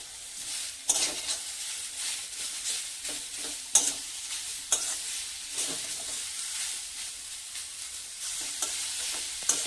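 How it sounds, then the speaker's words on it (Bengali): Grated bottle gourd is stir-fried in a tempering of mustard seed, dried chilli, bay leaf and raisins, sizzling steadily up close while a spatula scrapes and knocks against the pan at irregular moments. "সামান্য একটু নাড়াচাড়া করে দিয়ে দিচ্ছি কোরানো লাউটা।"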